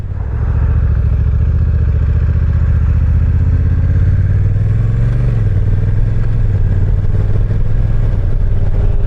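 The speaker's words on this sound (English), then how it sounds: "This is a fun bike to ride." Honda NT1100 DCT motorcycle on the move, a loud, steady engine drone with wind rush, revs easing slightly midway, close and continuous with no voices.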